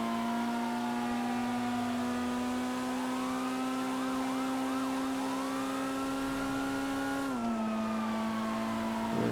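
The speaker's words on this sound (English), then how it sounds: "This is a front-wheel drive car." A front-wheel drive car in GTA Online cruises a highway with a steady engine drone, while a police siren wails and warbles over it before the engine note drops as the car shifts.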